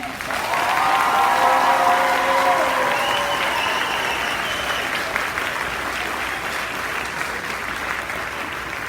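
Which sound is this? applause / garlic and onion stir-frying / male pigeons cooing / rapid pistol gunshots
applause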